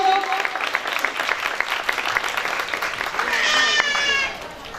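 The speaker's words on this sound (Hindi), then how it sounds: "उनके लिए जोरदार तालियां।" A congregation at a church meeting applauds in a dense wash of clapping with voices mixed in, swelling near the end before it quickly tapers off.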